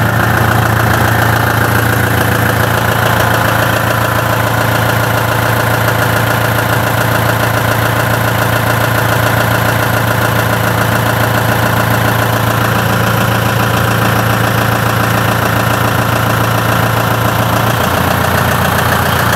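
A Steyr 40 tractor engine idles steadily on a farm, a loud, continuous close rumble with a low hum that cuts off near the end.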